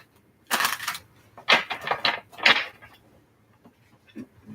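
Tarot cards riffle and slap together in several quick, crisp bursts, close by and fairly loud, with brief pauses between the shuffles and no talking.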